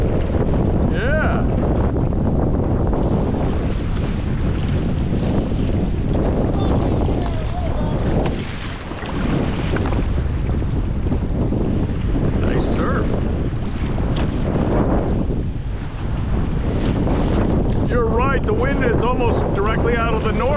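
Steady wind gusting from the north across a sea wall by open water, roaring as loud buffeting noise on the microphone throughout, with waves and someone talking faintly underneath.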